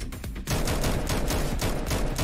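HK G3 battle rifle firing in the shooter game CS:GO, a dense, loud burst of heavy gunshots in rapid succession after a brief lead-in, with no voices.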